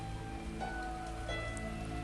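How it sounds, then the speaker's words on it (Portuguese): Heavy rain falls steadily and evenly, a constant dense hiss with no breaks, heard alone. "Nesse momento em que eu estou gravando, tá caindo uma chuva forte."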